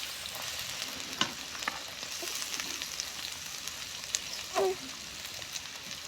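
Onions, garlic and whole spices such as cinnamon, cardamom and bay leaf sizzle steadily in hot oil, a continuous crackling hiss with occasional light clinks from stirring.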